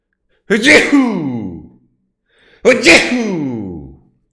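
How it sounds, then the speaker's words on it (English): Two loud, close sneezes about two seconds apart, each a sharp burst trailing off into a drawn-out exhale, from someone commentator recording alone indoors. "I feel like I have to sneeze."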